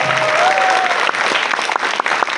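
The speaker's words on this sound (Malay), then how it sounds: "So satu tepukan juga untuk anda semua" Audience clapping at a gathering, a short burst of fairly close applause with distinct individual claps, with a brief whistle-like tone near the start.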